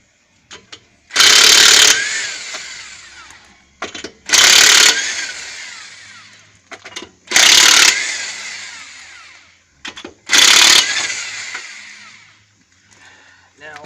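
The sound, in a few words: removing Honda Civic wheel lug nuts with socket wrench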